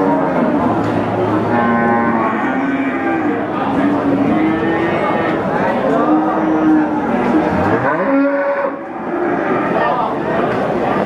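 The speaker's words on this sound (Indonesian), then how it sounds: "Nah, ini ada sapi-sapi bakalan" At a packed Central Java cattle market, Limousin feeder cattle moo repeatedly in long drawn-out calls, near and loud, mixed with ongoing talk from people around.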